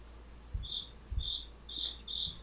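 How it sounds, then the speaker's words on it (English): Crickets chirp in regular short bursts, four or five evenly spaced high pulses over a quiet background with a few soft low thumps, fairly close and steady. "I wish I could do cricket sounds like my friend."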